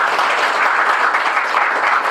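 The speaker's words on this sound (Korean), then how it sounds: "감사의 박수 부탁드립니다." An audience at a breakfast forum on construction gives a professor a round of thanks, a loud, dense, continuous burst of many hands clapping close by.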